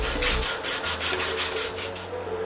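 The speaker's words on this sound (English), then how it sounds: "get your 120 grit sandpaper and start sanding the corners of the boards" 120-grit sandpaper rubbed by hand over the corners of painted wooden boards for a rustic end table, close, steady back-and-forth scratchy strokes in a quick rhythm.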